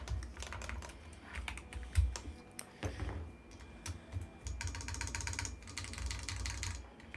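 Typing on a mechanical keyboard with no foam inside, bursts of sharp, hollow key clacks, some quick rapid runs and some single strokes, close and fairly clear with no talking.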